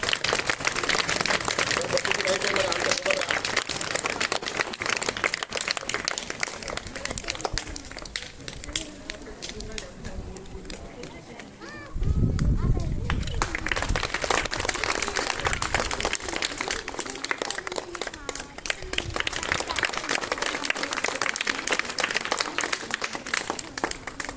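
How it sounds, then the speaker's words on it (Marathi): Loud, dense clapping from a crowd at a school event honouring a visiting education officer, sustained rattling applause with a brief lull midway and voices audible among it. "सर्वांनी जोरदार टाळ्या वाजवा"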